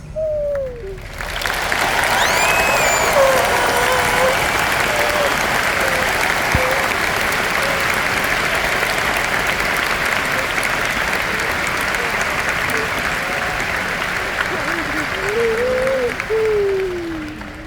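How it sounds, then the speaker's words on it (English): Sustained applause from a large crowd at the University of Hawaii at Manoa commencement, dense and steady clapping lasting many seconds, with scattered whoops and cheers rising above it. "Can we give her another round of applause?"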